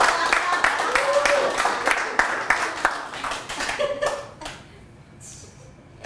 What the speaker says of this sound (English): Thank you for applauding my fear.